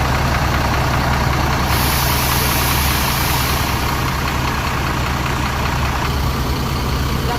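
A Mercedes-Benz OH1626 bus of the PO PM Toh line idles with a loud, steady low diesel rumble, close by and unbroken, with no one talking.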